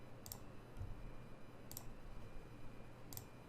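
A computer mouse clicks on a spreadsheet cell, three faint, sharp clicks spaced evenly over a low background hum, no talking.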